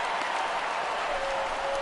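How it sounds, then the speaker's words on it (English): Stadium crowd noise from MLB The Show, a White Sox at Rockies game, reacting to a fly ball to right field: a steady, dense wash of cheering and clapping that holds at an even level throughout, with no clear voice on top. "This crowd oohs and ahs every time this guy hits a fly ball."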